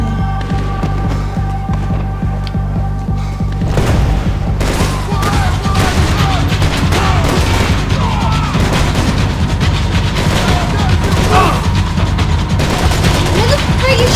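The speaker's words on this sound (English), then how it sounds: "What the frick you shooting at me" Gunfire in Max Payne 3 rattles in dense, rapid bursts with heavy booming shots layered over one another, a loud and sustained exchange of fire over a low background drone.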